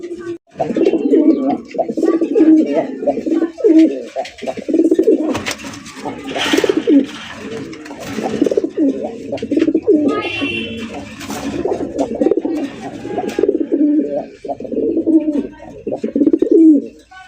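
Fancy pigeons cooing at a sale, repeated throaty coos rolling one after another, loud and close, with someone talking over them.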